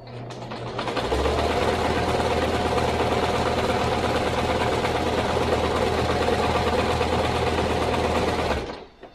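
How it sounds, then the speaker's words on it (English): A sewing machine basts fabric on its longest stitch for a stuffed hooved-animal toy body, starting up and running in a loud steady mechanical hum for several seconds before stopping abruptly. "I use my machine for basting just on the longest stitch."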